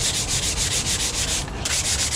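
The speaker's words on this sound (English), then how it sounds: "just start sanding it, you know, breaking down just that last little bit of high spots" Rapid back-and-forth sanding strokes knock down high spots on a fabricated cowl cover, rasping steadily and loudly nearby, with a brief pause before the rhythmic scrubbing resumes.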